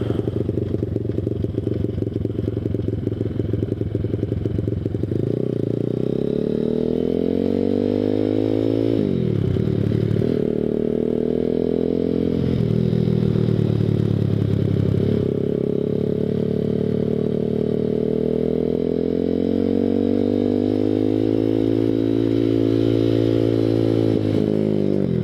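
A Grom clone minibike engine runs steadily close by while riding around, its buzzing note dipping and climbing with throttle changes through the ride, with no talking.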